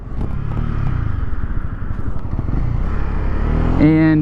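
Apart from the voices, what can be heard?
Honda CB300R motorcycle engine while riding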